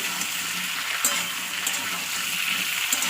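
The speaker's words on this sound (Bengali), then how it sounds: "ভালো করে আমি তেলে ভেজে নেবো" Radish and potato frying in hot oil, a steady crackling sizzle with occasional small pops, close and continuous with no talk.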